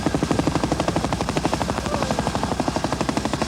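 A massive Royal Australian Air Force Chinook twin-rotor helicopter, flown in from Amberley Air Base for heavy lifting at Port Hedland, thuds with a loud, rapid, steady rotor beat close by.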